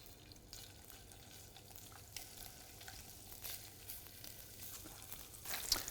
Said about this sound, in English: And then these can go into the pan to start pan frying.